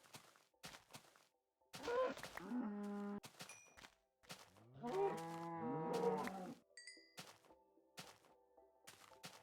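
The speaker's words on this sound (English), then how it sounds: "It's a field of cows." Cows in a field in Minecraft moo in two long, drawn-out calls, set among sharp thudding hits and short clicks of the game, with no talk over them.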